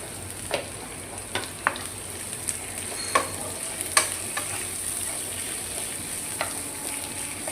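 Ghee sizzles steadily in a pan, a close, continuous frying hiss broken by scattered soft clicks of a spoon stirring.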